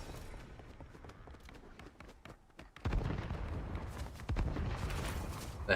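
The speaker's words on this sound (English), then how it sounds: "The hell are those explosions?" Explosions and gunfire in Fallout ring out as a string of sharp blasts and thuds, quieter and scattered at first, then louder and denser after a brief lull.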